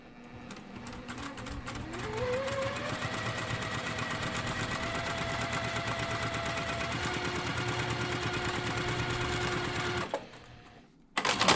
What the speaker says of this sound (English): we're at the sewing machine and we're going to get this aligned